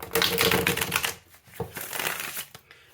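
A tarot card deck is riffle shuffled, giving a dense, rapid flutter of cards snapping together, a short pause, then a second quieter riffle, heard close up with no speech.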